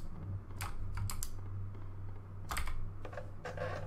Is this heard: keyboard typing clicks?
yes